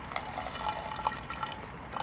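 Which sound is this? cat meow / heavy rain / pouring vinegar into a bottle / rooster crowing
pouring vinegar into a bottle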